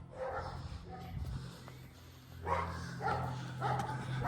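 A dog barks several times in short bursts at moderate distance near a church and priests' house, over a low steady hum, with people talking faintly nearby.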